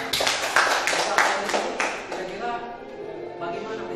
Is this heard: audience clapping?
yes